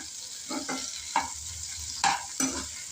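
Onion, tomato, green chillies and garlic fry in oil in a pan, with several scraping stirs and soft bursts of sizzling over a low background hiss. No one speaks.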